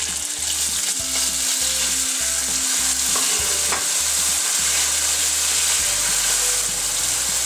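Tomatoes hit golden fried garlic in a pan, giving a loud, dense, steady sizzle with rhythmic stirring pulses throughout and no voices.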